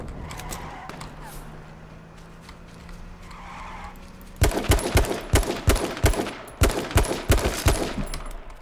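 Rapid automatic gunfire from an H1Z1 video game, aimed at a car driver, rips out in repeated bursts of sharp close shots, preceded by a few seconds of quieter engine and ambient game noise.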